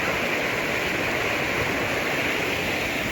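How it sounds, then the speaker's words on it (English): A winter river runs fast past banks covered in ice and snow, making a steady, full rushing roar close by that stays constant for a few seconds. No one speaks. "That water's moving pretty good."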